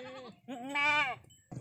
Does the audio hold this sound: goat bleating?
yes